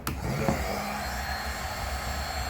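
A heat gun blows continuously on a headlight housing to soften it for removal, a steady loud airy roar held close throughout, with no talking.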